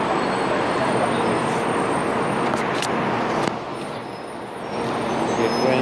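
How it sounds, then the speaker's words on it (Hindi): Taiwan high speed rail train at Taoyuan station: a steady loud rumbling roar of the train fills the platform, with brief squealing tones, easing slightly midway before swelling again. "इसको कहते हैं हाई स्पीड रेल"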